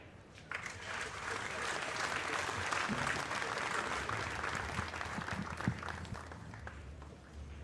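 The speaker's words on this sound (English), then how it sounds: "This will give the fans something to clap at." Fans clapping in an arena during the Predator World 10-Ball pool championship in Las Vegas, a steady wash of applause that swells after a brief quieter start and continues for several seconds beneath faint crowd murmur.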